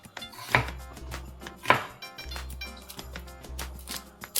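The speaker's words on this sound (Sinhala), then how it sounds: "මේක මේ ලූණු ටික පොළු ගහලා ගන්න ඕනේ" A knife chops onions on a board with soft knocks and a couple of sharper thuds over a low background hum, close by, with no talking.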